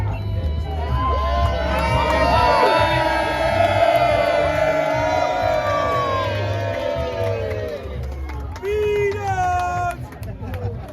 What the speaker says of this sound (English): can everyone give a cheer?